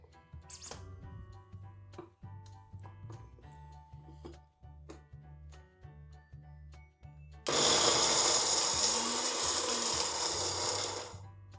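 A kitchen mixer grinder crushing dry fruits and makhana: a few seconds of light clicking and tapping, then a loud, steady whirring grind that runs for about four seconds before cutting off.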